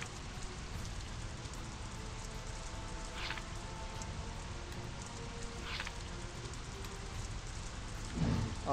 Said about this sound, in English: Starting out with a nice rain.